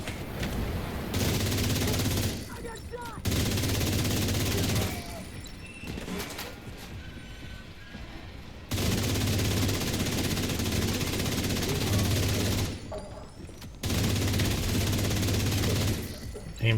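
Automatic weapon fire in The Division 2 hardcore mode combat in Brooklyn: loud, sustained bursts of rapid shots recur across the span, separated by short pauses, with talk over the action.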